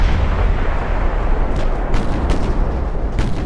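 Torpedo hits on a warship in the naval strategy game Ultimate Admiral Dreadnoughts, a loud, continuous rumble of heavy booming explosions layered over one another for several seconds, with no talking.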